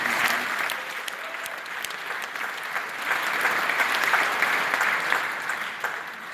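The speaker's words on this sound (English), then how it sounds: "if we can give them a round of applause." An audience at a school concert band program gives a sustained round of applause, many hands clapping steadily at a moderate distance, swelling slightly midway and holding until the end.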